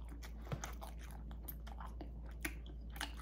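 A chili cheese dog topped with jalapenos is bitten and chewed up close, with soft wet mastication and several crisp crunchy bites at irregular intervals over a faint steady hum.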